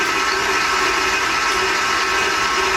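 A Kenwood stand mixer churns chocolate cupcake batter, a loud steady motor whir with a constant hum lasting the whole moment and no voices.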